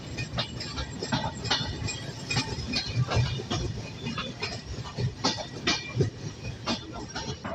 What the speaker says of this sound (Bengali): আমাদের ট্রেন ঈশ্বরদী বাইপাসের আগেই অনেকটা স্লো করে দিচ্ছে, আর এখন আবার একটু মানে ধীরে ধীরে চলা শুরু করছে